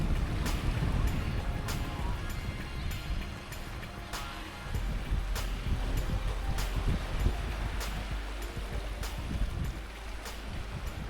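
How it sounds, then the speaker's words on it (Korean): Steady wash of East Sea water at a beach in Yangyang, Korea, with broad surf noise and periodic crisp splashes, continuous and fairly close, no voices. "시원한 파도 소리를 들으며 아름다운 풍경을 즐겨봅니다."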